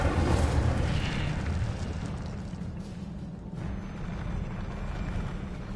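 Incendio fire spell cast in a wizard video game, a loud roaring whoosh of flame that bursts at the start and then settles into a sustained rushing blaze with no speech.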